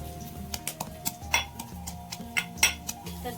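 Ginger and garlic pounded by hand in a kitchen give a run of sharp, irregular knocks and clinks, close and fairly quiet.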